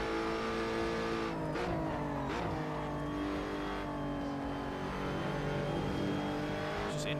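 A Lotus race car engine in the racing sim Assetto Corsa drones loud and constant, its pitch dipping and climbing through gear changes and throttle lifts, with no voices over it.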